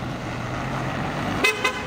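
A Lexus car horn gives two short honks in quick succession over a steady rumble of street traffic, sharp and fairly close.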